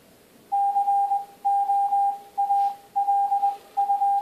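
Morse code tones from an Android teaching app, played in a slightly echoey kitchen: a steady, bright single-pitch beep keyed in rhythmic groups of dots and dashes with short pauses between characters, clear and alone.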